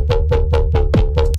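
A Serum synth bass drop played without EQ sounds muddy: five heavy, rhythmic bass hits with pitch-sweeping growls, loud and close, ending abruptly with a short burst.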